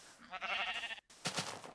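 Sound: sheep bleating in Minecraft video game

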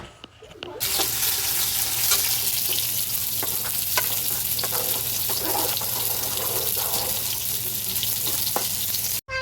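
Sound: pointed gourd frying in a pan

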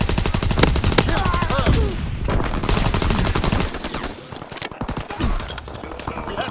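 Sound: gunfire in the video game Call of Duty: WWII

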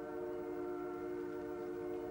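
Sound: Canadian train horn and bell, old tape recording

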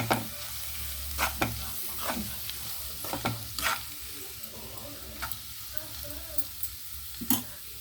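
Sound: onions frying in oil, being stirred for egg curry

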